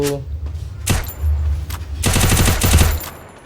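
Gunfire in the mobile shooter Free Fire, a short loud burst of rapid automatic shots following a couple of single reports, close and punchy.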